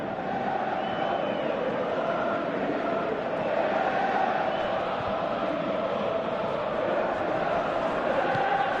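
A large video game football stadium crowd murmurs and swells steadily throughout, a dense continuous roar of many voices with rising excitement, slightly distant.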